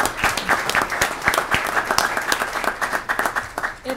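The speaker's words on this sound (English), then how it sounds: "Let's give them a big round of applause." Applause for a girls basketball team that just won its sixth county tournament championship, honored at a Union County freeholder meeting: a room of steady, close clapping with sharp individual claps, and a voice starting to talk at the very end.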